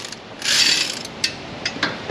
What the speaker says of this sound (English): I'll reach down with a ratcheting wrench and tighten that one up